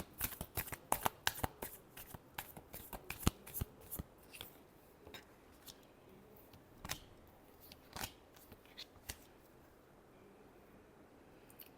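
Tarot cards are shuffled by hand in a quiet room, a rapid run of crisp riffling snaps and slaps that thins into sparser, separate flicks and taps, close and fairly soft.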